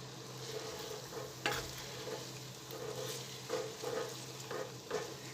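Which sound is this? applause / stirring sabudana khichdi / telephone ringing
stirring sabudana khichdi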